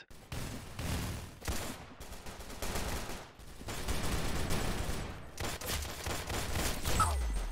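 Rapid bursts of gunfire from the Roblox Arsenal shooter game come in clustered volleys, moderately loud and continuous across the stretch, with no talk over them.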